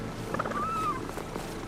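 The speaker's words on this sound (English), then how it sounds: "It makes purring noises" A small weird weasel-like creature in the video game Avowed gives a soft purring, trilling call, brief and faint over a low ambient game background.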